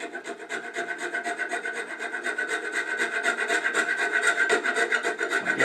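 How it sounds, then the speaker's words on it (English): A handmade wooden chatter tool is sanded flat by hand, giving a steady rhythmic scraping rub with quick back-and-forth strokes, close and continuous throughout. "I can sand it flat, get rid of a 1/16 of an inch if I have to"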